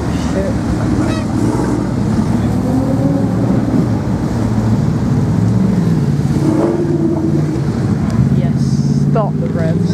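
McLaren 650S sports cars rev loudly amid a crowded London street rally, deep engine roars rising and falling under constant crowd noise, honks and excited voices nearby.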